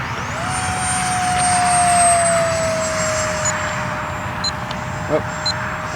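A radio-controlled EDF jet model aircraft flies low past a runway, its ducted-fan whine loud and steady with a slowly falling pitch as it passes close by.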